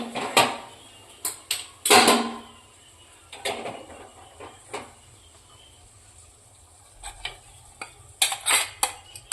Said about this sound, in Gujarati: હવે આપણે આ વઘાર ભાજીમાં નાખી દઈશું.